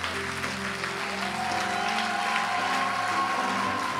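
Congregation applauding during a church worship service, a steady wash of clapping blended with loud music and singing throughout.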